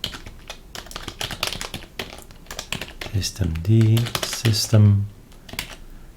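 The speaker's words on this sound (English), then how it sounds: "I have to type it all again" Fingers tap quickly on a computer keyboard in rapid irregular bursts, and someone speaks over the later part of the typing.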